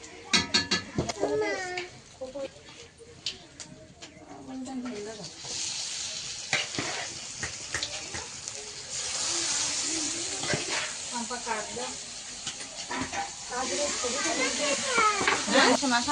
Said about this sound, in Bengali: কড়াইটা কষানো করে নিয়েছে আর এবার মাংসটা কষানো চলছে